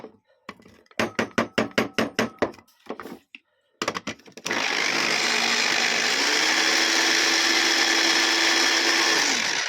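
A small electric grinder powders dried basil: first a series of short, sharp pulsed bursts, then a loud continuous whirring hum that runs steadily to the end.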